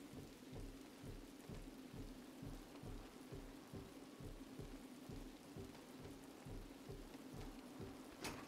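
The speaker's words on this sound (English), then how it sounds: "That's like rain." Rain pours steadily with low rumbling thunder rolling underneath in Batman: Arkham Asylum, a continuous storm bed with no voices.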